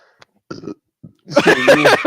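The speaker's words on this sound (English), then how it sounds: "Whenever I stop eating for like a good couple of hours, like I end up burping up air" A person burping up air, a few short close croaks followed by a long, loud, drawn-out belch.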